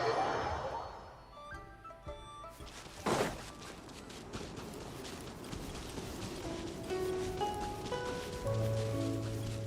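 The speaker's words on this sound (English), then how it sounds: "It's raining again." Steady rain hisses and patters throughout in the video game Genshin Impact, with soft musical tones ringing over it and no one talking.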